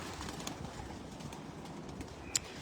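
Pigeons on a rooftop coo softly and steadily amid a faint outdoor background, with one brief sharper sound near the end.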